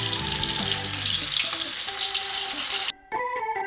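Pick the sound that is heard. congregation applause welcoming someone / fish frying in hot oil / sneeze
fish frying in hot oil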